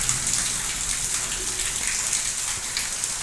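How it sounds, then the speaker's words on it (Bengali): Heavy afternoon rain pours down in Shailkupa as a dense, steady hiss of drops on surfaces, constant and enveloping with no breaks. "খুব সুন্দর বৃষ্টি হচ্ছে বিকেলবেলা।"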